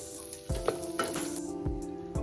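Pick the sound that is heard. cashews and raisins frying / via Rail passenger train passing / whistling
cashews and raisins frying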